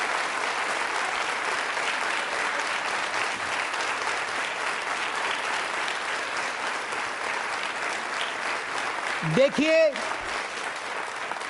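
Audience at a university quiz show marking International Women's Day claps loudly and steadily for several seconds, and a voice speaks briefly near the end.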